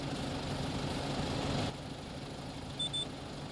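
A farm tractor with a planter attached idles steadily at close range, a continuous low engine rumble that drops slightly in level partway through, then settles into an even hum with a brief faint chirp.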